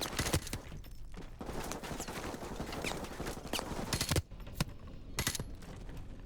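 Gunfire in the PC game Call of Duty 4: Modern Warfare Remastered, dense rapid bursts of shots and sharp cracks in a busy battle mix, briefly dropping off before further single shots.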